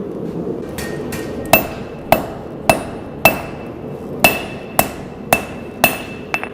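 Hot knife steel is struck with a hammer on the corner of an anvil, about a dozen sharp, ringing metallic blows at a steady pace, close and loud with no talk.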